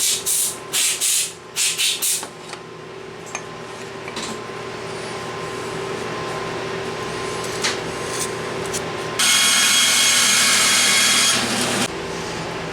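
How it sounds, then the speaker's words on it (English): Bandsaw cutting wood for a round cribbage board, a loud steady machine hum with a brighter, harsher rasp as the blade bites through the workpiece midway, preceded by a few sharp knocks as the cut is set up. "The reason I cut that on the bandsaw and not on the table saw"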